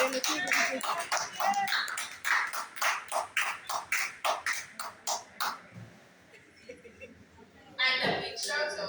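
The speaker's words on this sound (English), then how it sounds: "Can the children stand while you guys give us a big round of applause?" A church congregation applauds children standing during worship, a run of loud rhythmic claps for about six seconds that fades, followed by a voice speaking.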